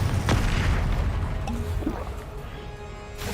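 A Confringo blasting spell explodes in the video game Hogwarts Legacy: a heavy booming blast opens with a low rumbling tail that slowly fades over a few seconds.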